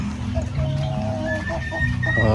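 Breeder chickens, some of them sick, cluck and squawk close by in General Santos City, several birds calling in short overlapping bursts over a steady farmyard background.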